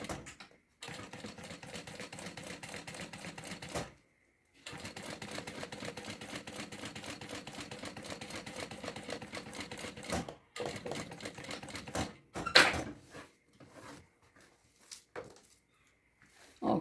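A domestic sewing machine stitches a loose zipper back onto a handmade bag in steady rapid mechanical runs, with a short pause between bursts and a few stop-start taps toward the end, close and alone.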